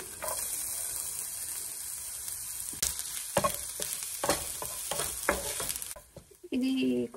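Onion and garlic sizzle in hot oil in a home kitchen, a steady frying hiss broken by several sharp scraping stirs, with a brief clatter near the end.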